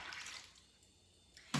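Water poured into a bowl of overnight-soaked soybeans, a quiet, steady trickle that fades partway through before a brief louder splash at the end.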